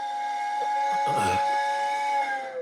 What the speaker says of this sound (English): I'm pretty sure I hear a daggum train off in the distance